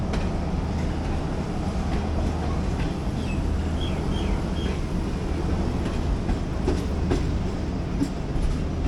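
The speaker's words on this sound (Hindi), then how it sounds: "झेलम स्टेशन से अब हम रवाना हो चुके हैं। प्लेटफॉर्म हमने पीछे छोड़ दिया है" A Tezgam passenger train pulling away from Jhelum station in Pakistan, rolling steadily on the rails with a continuous heavy rumble and rhythmic clickety-clack from the wheels, loud and close throughout with no talk.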